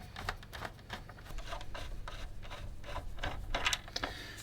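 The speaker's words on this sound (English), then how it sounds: "Now I'm going to be very gentle with these screws." Screws are driven back into a Sinclair Spectrum +2 case during reassembly, giving a close, quiet run of short rasping, scratchy turns with small clicks, heard alone.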